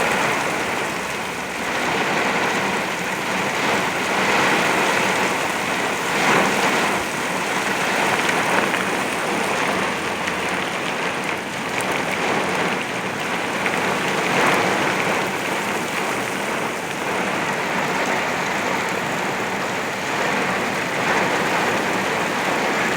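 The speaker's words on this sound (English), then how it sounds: "it's so rainy, you can't see nothing" Very heavy rain from a derecho-type storm in Oklahoma, with gusty winds, pours down as a dense, steady roar that stays loud and continuous throughout, with no talking.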